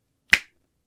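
One crisp finger snap stands alone in silence, sharp and close, and decays quickly.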